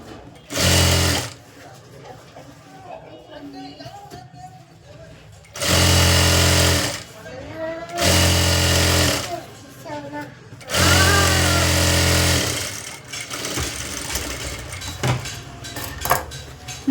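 Sewing machine stitching a blouse lining in four loud, steady whirring bursts of one to two seconds each, separated by quieter gaps where someone talks.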